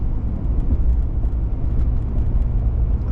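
A car driving home on the road, heard from inside: steady, loud low rumble of engine and tyres with no breaks or talk.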